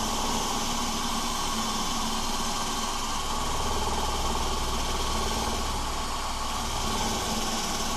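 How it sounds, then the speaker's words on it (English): A cordless drill cleaning rust gives a steady, continuous motorized whir with a dense buzzing drone, running without pause, loud and close, with no voices. "all I use is this, my cordless drill"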